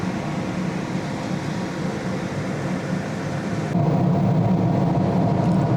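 Steady, loud whooshing drone of a laser engraver's exhaust fan running continuously, getting a bit louder partway through, with no talking.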